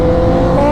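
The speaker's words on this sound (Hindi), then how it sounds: "चलो भाई ड्रैग रेस।" A Kawasaki ZX10R superbike accelerating in a drag race: a loud, close, continuous engine roar with a rising tone and no speech.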